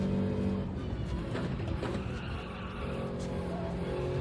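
Subaru WRX rally car in a racing video game, its engine droning steadily with rough tire skid and scrabble throughout, loud and continuous at close range.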